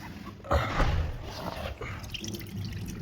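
Water drips and trickles faintly from an electric scooter hub motor after its stator is pulled, with a few soft splashy drops over a quiet background.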